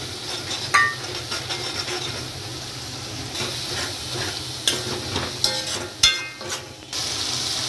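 Ginger and finely chopped green chillies sauté in a masala base for chana masala, a soft continuous sizzle broken by scraping spoon stirs and light clinks against the pan, no voices.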